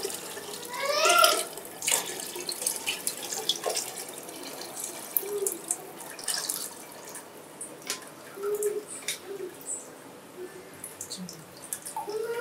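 Dishes being washed under a running kitchen tap in a home, with intermittent splashing water and clinks of utensils, louder at first then softer patches of flow and drips.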